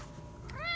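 A house cat gives a single short rising meow near the end, close and fairly quiet, after a stretch of low room noise.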